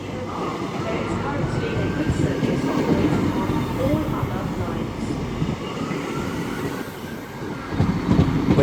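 Class 43 diesel HST power car 43140 passing through Reading station on the Great Western Main Line, a loud, steady, close rumble of engine and wheels with clickety-clack and faint squeal, voices talking over it.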